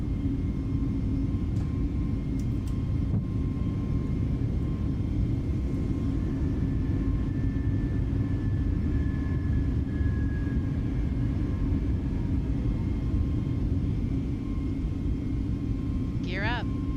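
Airbus A320neo climbing out after takeoff in Microsoft Flight Simulator, a steady loud engine roar and rumble with a faint whine, unbroken throughout, while a voice calls out briefly.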